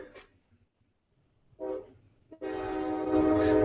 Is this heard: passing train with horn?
yes